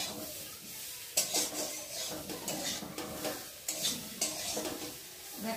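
Egg curry masala sautéed in a pan, a spoon scraping and stirring repeatedly over a low, continuous sizzle, with clanks against the metal at irregular intervals.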